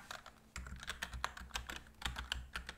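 Rapid keystrokes clatter on a gaming computer keyboard in an irregular burst of clicks, close and fairly quiet, with no voices.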